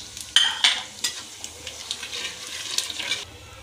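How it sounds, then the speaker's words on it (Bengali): Bay leaf, dried red chillies and cumin seeds sizzle in hot oil, with sharp crackling bursts near the start settling into a steady, close sputtering that stirring briefly interrupts. "তেলটা গরম হয়ে গেছে, তেজপাতা দিলাম, শুকনো লঙ্কা দিলাম, আর জিরে"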